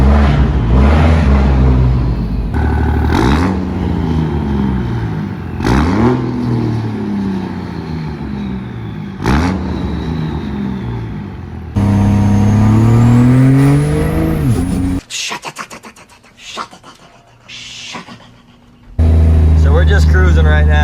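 An 800HP Cummins diesel truck engine gives several short revs under a tunnel, each a sharp rising roar that falls away, echoing between steady loud cruising drone.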